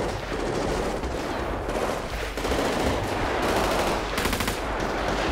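Sustained automatic gunfire in a GTA 5 roleplay shootout with police in a favela, a dense, continuous rattle of rapid shots filling the whole stretch at steady loudness with no talk over it.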